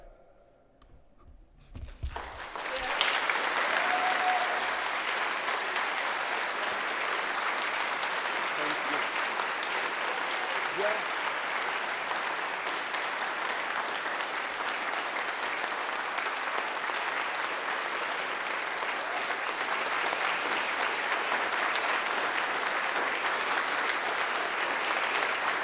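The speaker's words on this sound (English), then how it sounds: "So I hope you might consider clapping your hands once more if you agree with this statement." Sustained audience applause at a Martin Luther King celebration hosted by the City of Bellingham, starting after a brief quiet moment and continuing as a dense, steady wash of clapping from a large crowd for over twenty seconds.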